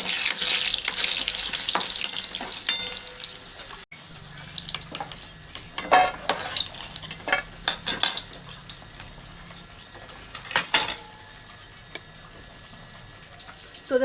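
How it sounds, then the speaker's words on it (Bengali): Lentil bori drop into hot oil in a wok, a busy sizzling hiss with clinks and scrapes that thins out midway into scattered stirring sounds, close and without speech. "তো এই যে বড়ি দিচ্ছি, বড়িটা একটু ভেজে তুলে রাখবো।"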